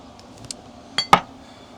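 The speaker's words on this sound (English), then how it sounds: "Stir that up a little bit." A glass with a cocktail made with Angostura bitters gets stirred, giving a few light clinks of a spoon against the glass and then two brighter chimes close together, close and clear with no talking.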